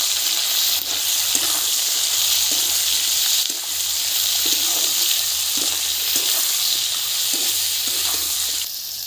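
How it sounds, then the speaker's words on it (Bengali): Potatoes and onions hit hot oil with dried chilli and cumin, giving a steady, loud, close sizzle and crackle throughout, with occasional stirring scrapes and no talking. "শুকনো লঙ্কা জিরে ফোড়নে দিচ্ছি, দিয়ে দিচ্ছি আলু। আলুর সাথে দিয়ে দিচ্ছি পেঁয়াজ।"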